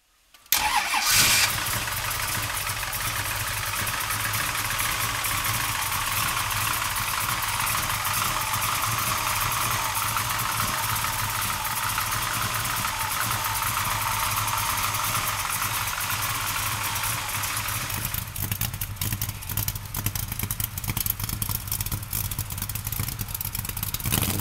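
A 1967 Ford Mustang Bullitt recreation fires up with a sharp crank and catch, then settles into a steady, loud, rumbling idle that runs continuously, with a slight change in tone near the end.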